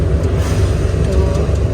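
Steady engine drone and road rumble fill a car cabin as it drives away from home toward the main bazaar, a continuous low roar with faint rattles; voices talk over it at times.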